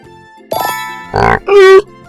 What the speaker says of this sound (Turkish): Eşek.